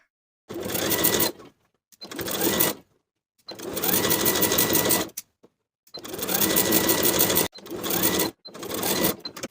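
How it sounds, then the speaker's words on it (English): A sewing machine stitches close to the folded inner edge of a fleece pajama waistband. It runs in six quick whirring bursts, each a second or two long, with short silent pauses between. "I'm going to sew close to the folded inner edge all the way around"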